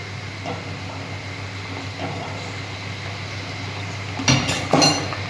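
A lid is lifted off a cooking pan of simmering chhana kofta curry, with two quick metallic clinks near the end over a steady low kitchen hum.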